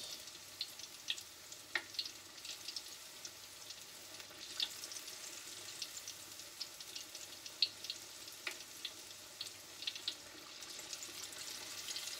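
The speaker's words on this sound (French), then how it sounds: "On se plonge dans la friture, là." Apple beignets and low-carb donuts deep-fry in oil with a continuous close crackling sizzle, scattered sharp pops and spits breaking through the steady hiss, and no voices.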